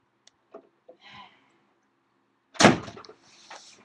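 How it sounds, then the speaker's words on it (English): A door slams shut in a single loud, sharp bang at close range, followed by a short rattle, after a few faint scattered knocks and rustles. "So she slams the door on me."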